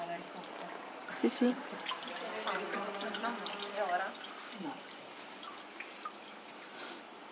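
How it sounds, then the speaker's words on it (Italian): Water drains and drips from paper mache pulp held on a screen during a paper-making demonstration in Lecce, with a steady patter of drips and trickles while people talk nearby. "dove si lascia scolare, in pratica drenare l'acqua e mantenere la polpa di carta"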